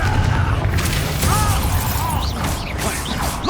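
A Confringo fire spell explodes in the video game Hogwarts Legacy, a dense loud crackling burst with booming low rumble and debris, continuous over a few seconds with faint effects layered on top.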